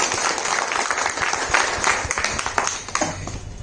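Audience applause at a talk, a dense, loud burst of clapping from a crowd lasting a few seconds with no voices over it.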